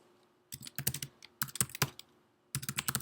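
Bursts of fast typing on a computer keyboard, three separate runs of close, crisp key clicks with short quiet pauses between them.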